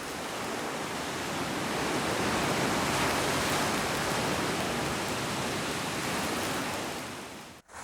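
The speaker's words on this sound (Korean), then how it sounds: "먼 곳에서 들리는 파도 소리는 저음이고 해안가에 부딪히는 파도 소리는 고음입니다." Ocean waves breaking on a shore, a steady, loud broadband roar that swells gently and holds constant throughout, alone with no voices.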